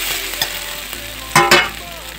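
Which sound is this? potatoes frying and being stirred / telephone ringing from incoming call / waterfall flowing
potatoes frying and being stirred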